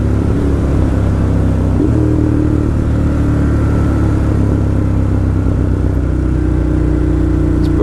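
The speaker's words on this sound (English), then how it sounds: "Look how fast this bike is." Motorcycle riding fast, a loud continuous low engine rumble with wind roar, steady and close throughout with no voices.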